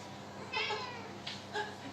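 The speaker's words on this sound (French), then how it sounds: "C'est le chat de la maison." A house cat meows in a home kitchen, giving two or three short, close, fairly quiet meows over faint room noise.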